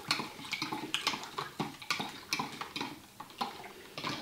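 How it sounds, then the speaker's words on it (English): A spoon stirs stew seasoning mix in a crock pot. It clinks and scrapes against the ceramic in a quick, even rhythm, close and fairly quiet, with no talking. "Stir it up real good."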